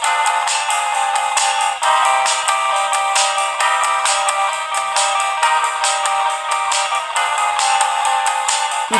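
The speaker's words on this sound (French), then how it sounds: "Au même moment, une légère sonnerie s'est fait entendre." A soft ringtone from a phone in the Amour Sucré visual novel game, a bright repeating melodic pattern that plays steadily and fairly loud with no voices over it.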